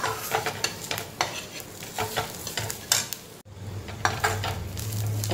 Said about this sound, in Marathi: आपला कांद्याचाही कलर बदलला आहे, खोबऱ्याचाही कलर बदलला आहे, काजूही आपले व्यवस्थित फ्राय झालेले आहेत